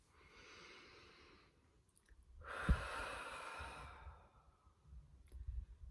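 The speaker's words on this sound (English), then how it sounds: "Take a deep breath." A person takes a slow, deep breath during a stress-reduction tapping exercise. A long inhale is followed by a pause, then a fuller, louder exhale, close and alone with no talking.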